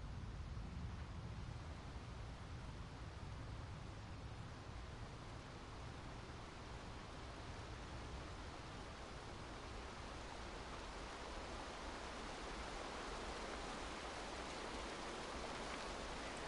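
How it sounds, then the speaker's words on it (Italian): A waterfall in the video game A Quiet Place: The Road Ahead, a constant, even rushing roar of falling water, soft and unbroken for the whole stretch with no voices. "Cascata."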